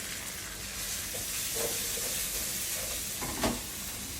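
Potatoes crisp as they fry in a pan, giving a steady close sizzle with a few soft stirring scrapes and a light clink near the end.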